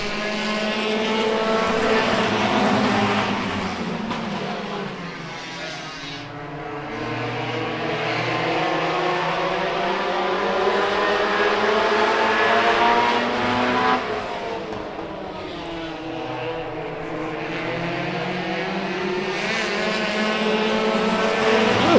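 Hobbyfest race cars roar around the track during a heat, engines rising and falling in pitch as several cars pass close by in waves, loud and continuous with no talk.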